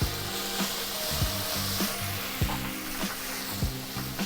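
Steady, loud sizzle of sherry hitting a hot pan of seared scallops for a cream sauce, with a few clinks and stirring scrapes scattered through, no voices.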